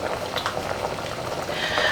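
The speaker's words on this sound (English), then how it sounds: "Cover the pot and bring it up to a boil for about 45 minutes." Pot of peas for Jamaican rice and peas boiling steadily, with a continuous soft bubbling and gurgling, close and moderately quiet, with no talking.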